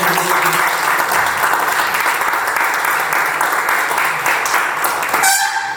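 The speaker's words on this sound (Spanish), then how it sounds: "porque es un aplauso para Miguel" Audience applause in a literary hall, loud continuous crowd clapping that sustains evenly and then cuts off sharply near the end, with a faint voice in the background.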